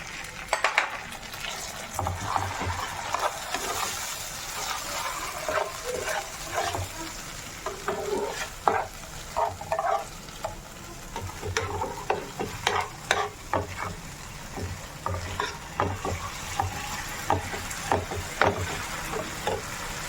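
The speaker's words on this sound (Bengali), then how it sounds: "নাড়িয়ে নেবো এইভাবে।" Fish frying in tomato sauce in a pan for a Bengali recipe, stirred with a spoon, giving soft steady sizzling broken by frequent light scrapes and taps of utensil on metal.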